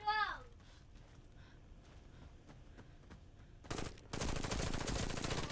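PPSh submachine gun in Warface on Nintendo Switch: a short burst of automatic fire, a brief pause, then a long sustained loud stream of rapid shots, following a short voice at the start and quiet game ambience.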